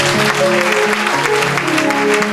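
A church congregation bursts into loud, sustained applause, dense clapping from many hands filling the space, with faint voices mixed in.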